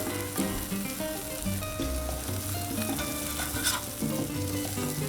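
Hamburger steaks sizzle steadily on a Blackstone 22-inch griddle right after being flipped, a dense close frying hiss with faint crackles and no talk.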